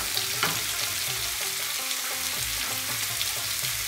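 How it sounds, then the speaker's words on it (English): Green peas and spices sautéing in a pan for veg jalfrezi, a steady close sizzle with occasional stirring scrapes and clinks, no talking. "We have to saute a little bit"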